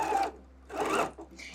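A sewing machine stitches a seam on a summer wrap dress in two close, steady whirring bursts separated by a brief pause, with no voice over it.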